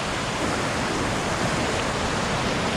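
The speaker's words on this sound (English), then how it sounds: "I think if I get past that last bit of white water there" Flooded creek near Potoroo Falls, white water rushing in a dense, steady roar that fills the whole clip, close and loud with no voices.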